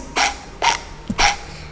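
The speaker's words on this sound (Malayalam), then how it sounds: "ഒരു ചിന്ന പട്ടി ഗൈസ്." A small dog gives three short, sharp barks in quick succession, fairly close and otherwise quiet between them.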